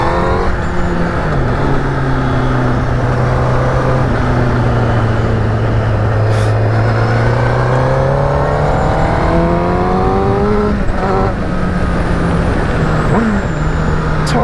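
A 2019 Honda CBR1000RR Fireblade motorcycle is ridden on the road, its engine loud and close with rising and falling revs under constant heavy wind rush.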